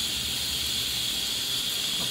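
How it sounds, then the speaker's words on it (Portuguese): Small manjubinha fish frying in oil in a pan on the largest stovetop burner, giving a steady, even sizzle and hiss that holds unbroken throughout with no voices over it. "Repara que eu tô fritando na boca maior do fogão pra fritar homogêneo de todos os lados da frigideira"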